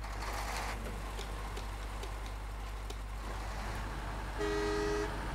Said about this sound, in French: Bon, klaxon n'est pas dingue.